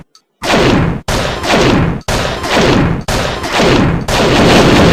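Gunfire from shooting a boss in a video game arrives as five loud, dense bursts of rapid shots, one after another about a second apart, close and harsh, after a brief near-silent start.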